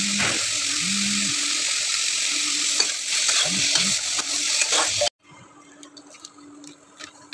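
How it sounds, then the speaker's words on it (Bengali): Green peas, peanuts and onion fry in a wok with salt, a steady sizzle broken by scraping stirs for about five seconds, then a sudden cut to quieter, sparser frying. "কড়াইশুঁটি বাদাম দিয়ে দিয়েছি স্বাদ মতো লবণ দিয়ে আবার বেশ কিছুক্ষণ সমস্ত কিছু ভেজে নেব"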